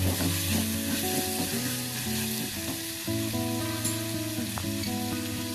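Onion, tomato and Kashmiri chilli powder sauté in a pan for Kerala beef curry, with a loud bubbling sizzle and spoon scrapes stirring through it, while a steady tonal hum of music or a kitchen appliance runs underneath.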